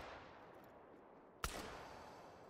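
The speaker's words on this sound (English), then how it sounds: "that was a bad shot" A single shotgun blast in the hunting game theHunter: Call of the Wild, fired while hunting crocodiles: quiet outdoor ambience, then one sharp loud crack with a short rumbling tail that fades back into the background.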